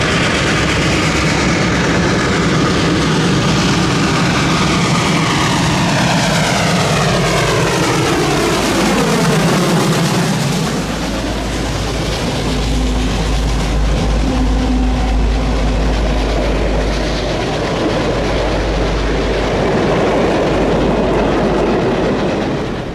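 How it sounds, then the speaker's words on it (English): Reading & Northern 425, a steam locomotive, hauls an excursion train through the anthracite region, a loud, continuous roar of exhaust and rolling cars building as it passes close by, with a deep rumble and shifting pitch. "The main event was now running as train JTOS, nipping on the Pottsville train's heels and screaming towards Tippett's in no time."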